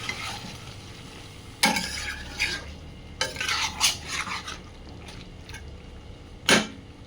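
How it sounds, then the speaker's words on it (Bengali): Mutton cooked in yogurt is stir-fried in a lidded pan over a low frying sizzle. Several loud scraping and stirring bursts of a utensil against the pan come in uneven clusters. "এরকম ঢাকা খুলে খুলে আমি ভালো করে কষিয়ে নেব।"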